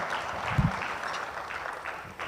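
Audience clapping through a conference panel session, a steady broad wash of applause at moderate level with a brief louder thump near the start and no talk over it.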